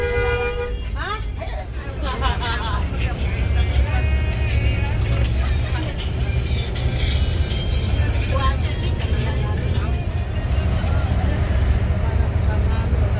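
A Tiara Mas bus pulls out of Purabaya terminal in Surabaya onto the toll road, its engine droning loudly and steadily with dense traffic noise and a few horn toots, while people talk over it.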